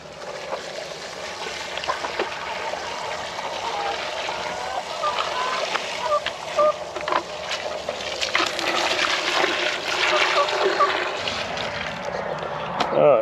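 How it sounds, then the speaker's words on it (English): Water dumped out of a container onto the ground in a backyard garden, a steady slosh and splatter that lasts several seconds and swells toward the end, with faint outdoor background. "Let me dump the water out over here."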